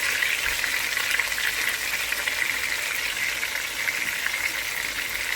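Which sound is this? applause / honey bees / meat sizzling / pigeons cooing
meat sizzling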